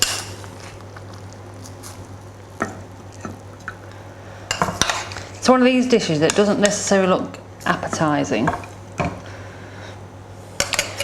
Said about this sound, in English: So we'll just serve it onto the plate.